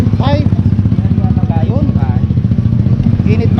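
A motorcycle engine runs close by with a steady pulsing, throbbing idle-like rumble, under someone talking throughout.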